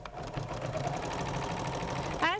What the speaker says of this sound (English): And now I'm ready to sew.